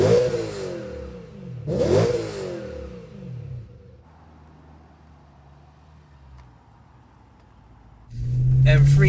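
A BMW M3 E92 engine revs loudly in two sharp bursts, then settles to a low idle before roaring again as it accelerates close by.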